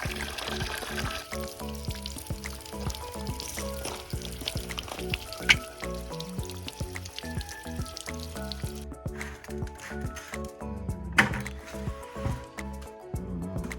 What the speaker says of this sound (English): So we're just gonna kind of put some more water in it, see if we can get it to run clear